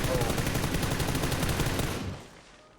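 Gunfire from a Kar98k rifle in a PUBG match: a rapid, loud string of close shots rattles for about two seconds, then cuts off abruptly into quiet.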